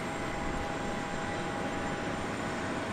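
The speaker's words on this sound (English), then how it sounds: "Flight 3383 to St. Louis is 737-700" A Southwest Boeing 737-700 takes off from runway 13 left at Dallas Love Field, its engines a steady, dense roar with a thin whine on top, loud and unbroken throughout.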